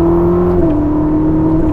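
A 1000-horsepower Ferrari SF90 Stradale engine hums with a steady, loud tone after a light blip of throttle, then eases slightly as the throttle is released, staying close and continuous throughout.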